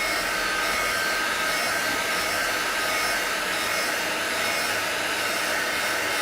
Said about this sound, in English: Going to heat up the sides.